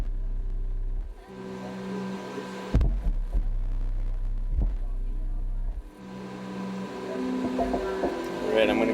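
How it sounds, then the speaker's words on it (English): A Sundown subwoofer on a Marts Digital MXD 500-watt amplifier thumps out deep, sustained bass tones that stop and restart in bursts, with someone talking between them. "this sundown sounds awesome. And this is on a 500 watt amplifier."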